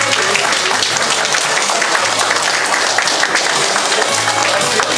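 Loud, continuous audience applause at an inauguration ceremony for a memorial society's new chairman during a flower presentation, a dense wash of clapping from a large crowd filling the whole moment.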